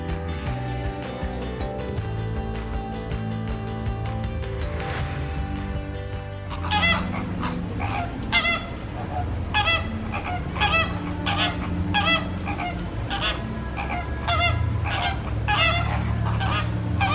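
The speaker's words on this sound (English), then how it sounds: "Got the flamingos there near the pool." Flamingos at a pool beside a resort lodge give a chorus of repeated honking calls in loose bursts, fairly close and loud, over a steady background of ambient noise and distant hum.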